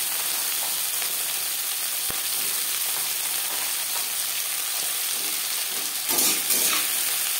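Bitter gourd fries in a pan, giving a steady, close hiss and sizzle throughout, with a single sharp knock and a brief burst of stirring scrapes near the end.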